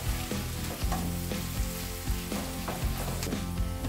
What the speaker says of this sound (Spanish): Tenemos la cebolla medio cochadita